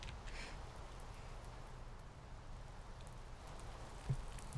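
Steady, faint rain hiss falling continuously in the Minecraft TerraFirmaCraft game world, an even wash of drops with no voices.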